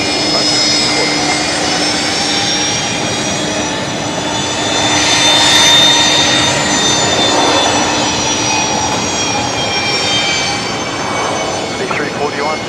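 A Boeing 737 taxis at Brisbane Airport at night, its jet engines giving a loud, steady whine with layered high tones over a broad rumble that swells slightly midway.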